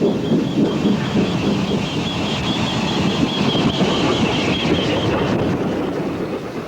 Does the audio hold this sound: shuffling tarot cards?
no